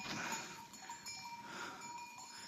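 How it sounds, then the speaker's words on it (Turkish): Flock of sheep coming along behind a shepherd, with clanking bells and faint bleats from livestock moving steadily at a moderate distance, no talk. "En arkada koyun geldi."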